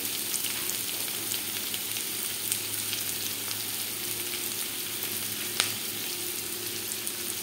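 Onions frying in a pan for a home-cooked chicken curry: a steady, close crackling sizzle with fine popping throughout and one sharp tick near the end, no voices.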